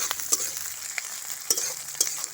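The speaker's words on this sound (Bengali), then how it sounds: "এবার হালকা আঁচে মশলাগুলো একটু ভেজে নেব" Spices with chopped onion and green chilli frying on low heat for chicken curry, a steady close sizzle broken by several sharp spoon scrapes and taps against the pan.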